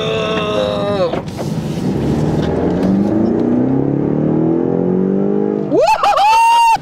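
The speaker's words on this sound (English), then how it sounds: "car's waiting for me, so I'm gonna drive off now." A car pulls away and accelerates, loud engine whine rising in pitch with a brief shift and a second rising sweep near the end, close and dominant throughout.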